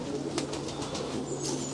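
Racing pigeons coo softly inside a long loft, a few low rounded calls repeating close by over a steady background hum.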